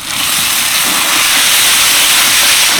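Fried ridge gourd drops into a pan of cooking potatoes, setting off a loud, close, unbroken sizzle that holds steady throughout.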